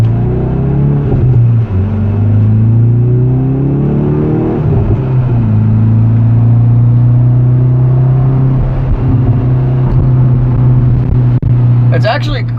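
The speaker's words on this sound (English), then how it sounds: "you can definitely hear the exhaust tone" Exhaust of a 2020 Hyundai Veloster N heard from inside the car while driving, a steady low droning hum that rises and settles slightly with throttle, loud and continuous throughout.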